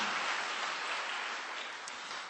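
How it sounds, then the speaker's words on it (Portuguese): A church congregation bursts into applause for the Lord during an evening service, a steady dense wash of many hands clapping that fades slightly at the end, with no voices over it. "Dê um aplauso ao Senhor esta noite."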